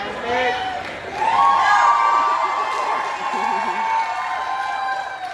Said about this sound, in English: Thank y'all for cheering for my taps.